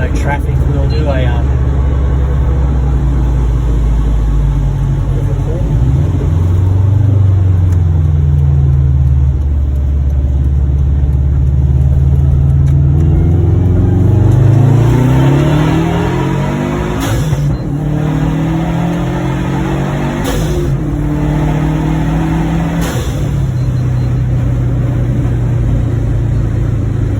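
A Subaru accelerates hard from a launch, its engine rumbling and rising through the gears with brief dips at each change, loud and close from inside the cabin, with people talking over it.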